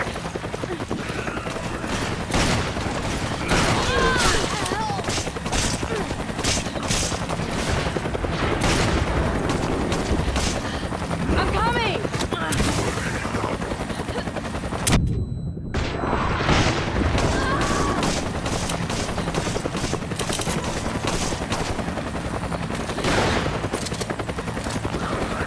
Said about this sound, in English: We can hear gunfire.